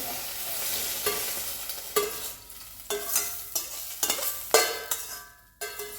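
Tomato, mango and ajwain leaves sizzling in a pan for chutney, a steady crackling fry broken by repeated scraping stirs, close and fairly loud, with no talking.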